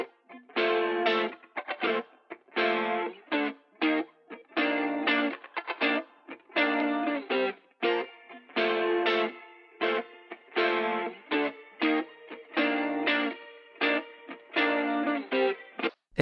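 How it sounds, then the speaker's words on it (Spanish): Original guitar track for the song, an effected, slightly distorted and chorused electric guitar playing rhythmic chord phrases in steady repeating bars, close and alone for the whole stretch. "Esta es la guitarra original"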